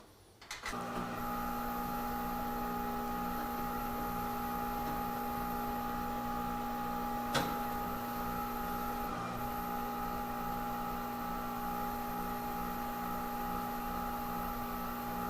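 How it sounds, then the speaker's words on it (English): Rollers on a tire changer machine rotate a clamped wheel and tire assembly, producing a steady mechanical hum with tonal whine, one sharp click midway, and no talk. "We'll see the rollers come in. Starts rotation."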